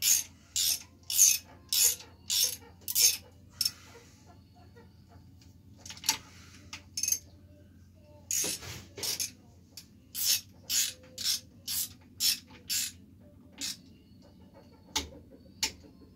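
A hand ratchet tightens bolts on a Chevy 454 big-block engine build, making quick bursts of sharp clicking strokes in repeated runs with short pauses between them, close and clear.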